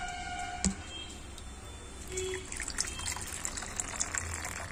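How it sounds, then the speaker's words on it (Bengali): Water poured into a thick batter of rice flour, maida and jaggery, giving a soft, close trickling and liquid splashing over steady kitchen background noise, with a sharp clink near the start. "এখানে যেহেতু আমার বেশি গাঢ় হয়ে গেছে, তো আমি একটু জল মিক্সড করে নিলাম।"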